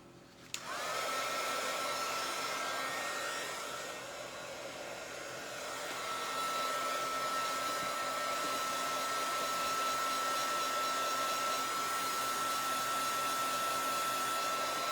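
A hair dryer blows steadily and loudly for the whole stretch, a continuous whooshing roar with a high whine, starting abruptly after a brief quiet moment and holding on alone without talk.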